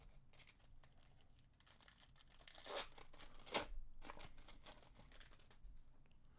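Trading card packs torn open by hand, crinkly foil wrappers crumpling and ripping with a couple of sharper tearing bursts, close and fairly quiet.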